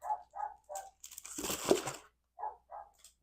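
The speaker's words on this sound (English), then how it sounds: "You hear the dog? They're outside my window barking." Dogs bark outside a window in two short groups of sharp, mid-distance barks, three and then two, with loud paper and packaging crinkling close by in between.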